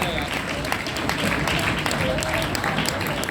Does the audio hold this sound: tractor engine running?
no